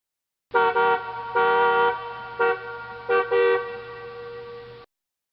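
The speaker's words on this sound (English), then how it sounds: "Double-decker bus." A double-decker bus sounds its horn in a series of loud, close toots of varying length, with a low engine hum running steadily beneath.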